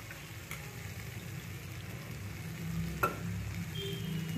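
Paneer masala with peas stirred in a pan with a little water, giving a soft, steady low sizzle and faint scraping close by, with a brief clink near the end; no talking.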